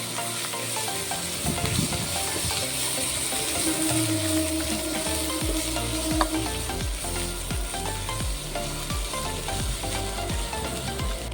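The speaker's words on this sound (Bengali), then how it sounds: "বাটা মশলা দিয়ে ভালো করে কষে নিতে হবে" Ginger and cumin paste sautéing in oil with eggplant for a vegetarian Bengali dish: a constant close sizzle with rhythmic metal spatula scrapes against the pan, repeating every half second or so.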